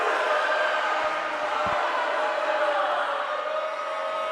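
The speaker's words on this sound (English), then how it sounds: "And the SJV crowd" Crowd cheering and roaring from the St. John Vianney fans at a girls volleyball conference final, a steady loud wash of noise with a couple of brief thumps early on.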